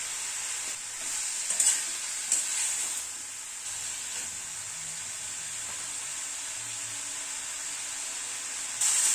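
Cauliflower and potato sauté with a tomato and green chilli paste, giving a continuous soft sizzle and hiss with a few louder stirring scrapes near the start and end.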